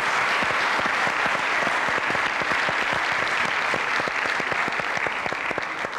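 A studio audience on a 1998 Turkish variety show claps in rhythmic unison, a steady pulse of sharp, evenly spaced claps over a continuous bed of applause, holding at moderate loudness throughout.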